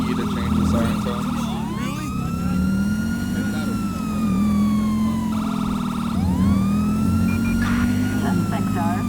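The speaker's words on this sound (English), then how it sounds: "when your siren is on, you can push and hold E to change the siren tone." A police car siren in GTA 5 with the LSPDFR mod wails and sweeps in rising, falling cycles, switching tones partway, loud and close over a low engine drone.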